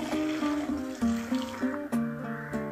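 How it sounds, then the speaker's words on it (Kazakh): Boiling water poured through a funnel into a glass jar of cucumbers for pickling, a close gurgling stream with rising pitch as the jar fills, slightly uneven in flow. "Енді үстінен қайнаған суымызды құямыз."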